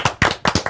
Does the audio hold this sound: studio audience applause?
yes